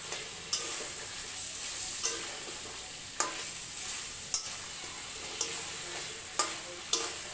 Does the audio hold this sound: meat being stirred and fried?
yes